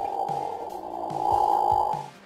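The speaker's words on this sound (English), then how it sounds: "When platypuses are disturbed, they emit a low-volume noise that sounds like this." A disturbed platypus gives low, soft grunts, four or five short ones evenly spaced over a steady background hum.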